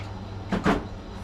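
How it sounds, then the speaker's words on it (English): A storage cupboard is opened to grab a screwdriver during work on a Honda Ruckus clone scooter's carburetor: two quick, fairly close wooden clunks in a row, with no talking. "Grab a screwdriver."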